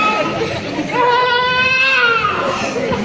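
A baby's wailing cry in a school stage play, rising in long drawn-out harmonic wails that swell and fade over a few seconds against a slightly noisy room.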